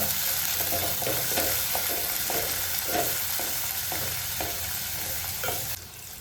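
Fried onion and tomato are stirred in a hot pan, making a loud, constant sizzle broken by a rhythmic series of scraping strokes from the spoon, roughly twice a second.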